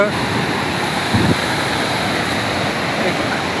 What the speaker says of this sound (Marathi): तुम्ही पाण्याचा प्रवाह बघा किती जोरात